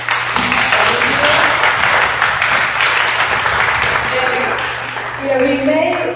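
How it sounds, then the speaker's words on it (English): An audience gives a full round of applause, thick sustained clapping that rises and holds. Near the end it thins out as a voice begins to talk over it. "I wanted to say another big round of applause for Evan."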